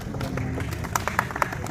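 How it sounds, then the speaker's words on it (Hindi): An audience claps for a topper of a Bihar police exam in a group-discussion class: brief, scattered hand claps over a steady murmur of background noise, with no one speaking. "ताली हो जाए।"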